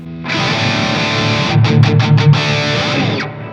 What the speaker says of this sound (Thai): เอาแฟงเจอร์ออก ก็กลายเป็นเสียงแตกปกติ